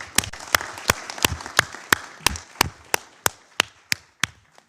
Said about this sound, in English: And let us clap everybody who has done so far